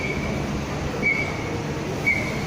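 Train at Orchard station on Orchard Boulevard, Singapore, heard as a steady rumble of rail traffic with two brief high squeals about a second apart, with no talk.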